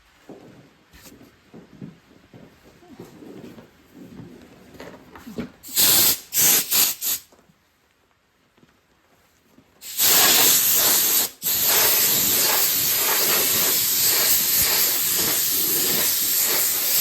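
An air hose blasts air over freshly powdered crafts, with loud hissing sprays in short bursts, then a long sustained blast broken by one brief pause, after quieter handling noises at the start.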